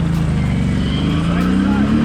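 A 2022 Can-Am Outlander 570 XMR ATV engine revs in thick mud, a loud close droning growl rising slightly in pitch, with a person talking over it.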